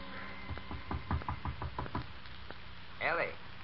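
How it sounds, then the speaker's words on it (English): A radio-drama sound effect of a father knocking on his daughter's bedroom door: a run of about nine sharp, close knocks in an uneven rhythm, followed by a short voice. "Her father knocks at the door."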